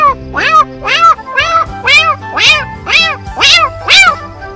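A boy imitates a female cat in heat with eight quick, strained yowls in a steady rhythm, loud and close, each cry bending up and then down.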